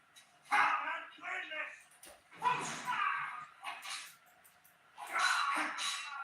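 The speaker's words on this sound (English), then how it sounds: "Dog." A dog in the video game Skyrim barks and yips in several bursts, loud and close, with short whimpering sounds between them and no talking.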